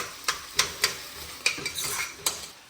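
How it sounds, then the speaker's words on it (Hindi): Tomatoes being mashed into lentil dal in a pot, heard as a series of sharp utensil clacks and scraping taps against the metal, about six distinct hits spread unevenly over a soft background hiss. "टमाटर को अच्छे से मैश कर लें।"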